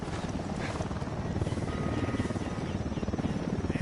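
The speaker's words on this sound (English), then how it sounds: "Unidad patrol helicopter. approaching." A patrol helicopter in Ghost Recon Wildlands approaches with a dense, steady rotor drone and rhythmic blade chop, loud and continuous with no talk over it.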